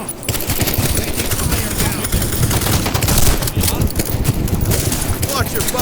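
Rapid, sustained automatic gunfire fills a Counter-Strike/Day of Defeat Vietnam-themed video game battle, dense overlapping bursts continuing without pause, loud and close, with voices calling out over the shooting.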